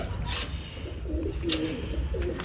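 Pigeons coo softly in low, throaty warbles, several rounded calls close by over a faint background murmur.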